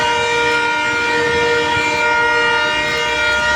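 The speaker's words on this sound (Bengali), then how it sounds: "ট্রেন আসতেছে এখন একটা আবার।" A train passes at Kamalapur in Dhaka, its horn sounding loud and steady with strong harmonic tones over continuous rumbling rail noise, close by and with no talk.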